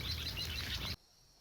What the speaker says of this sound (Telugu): ఇక్కడికి వచ్చిన తర్వాత ఇక్కడ పిచ్చుకలు భారీ అరుస్తున్నాయి